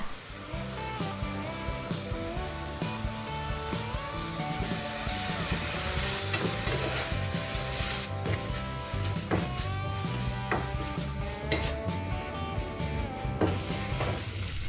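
Bitter gourd and eggs stir-fried in a pan, seasoned with oyster sauce, fish sauce, pepper and sliced fresh red chili: continuous sizzling with scraping stirring strokes, close and steady, and no talking.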